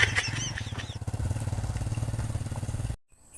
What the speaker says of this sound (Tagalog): Ginamit niya pong malakas ang sidecar niya.